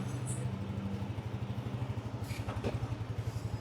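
A Honda 125 motorcycle engine, a model 20 with a struggling, worn engine, idles close by with a steady rapid thumping beat and a faint clatter.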